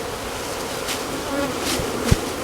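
A dense, steady buzzing of a honeybee swarm in a trash can fills the scene, constant and close, with a few brief knocks.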